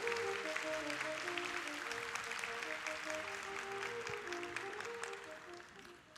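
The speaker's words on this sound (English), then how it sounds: "Give them a round of applause" Audience applause at an ocean cleanup talk, a broad steady wash of clapping over sustained tonal music that fades slightly toward the end.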